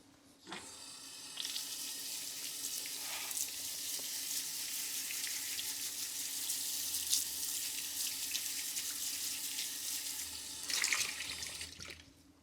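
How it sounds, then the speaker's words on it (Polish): Tap water runs in a steady, close hiss as carpet-cleaning equipment in a rug-cleaning workshop is rinsed, starting abruptly and stopping near the end, with brief splashy changes along the way. "Teraz spłuczemy to wodą."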